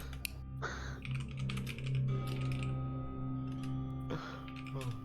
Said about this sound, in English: Oh, the typing intensifies.